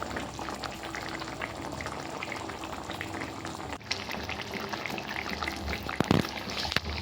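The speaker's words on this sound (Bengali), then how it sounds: "তারপর তরকারিগুলো সেদ্ধ হওয়ার জন্য ঢাকা দিয়ে ঢেকে দিলাম।" Vegetables, potatoes and drumsticks for a rui fish curry boil steadily in a covered pot, a continuous close bubbling hiss with a brief clink partway through.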